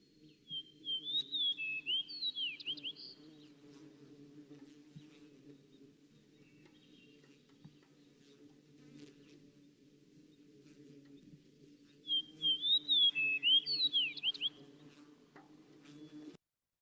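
Fox sparrow song, two bright, quick whistled phrases of sliding clear notes separated by a pause, heard clearly over a low steady hum.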